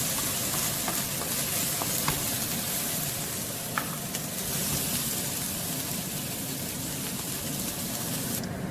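Chopped bell peppers fry in oil over a medium-high to high flame, giving a steady, loud sizzle that holds throughout with faint clicks of stirring.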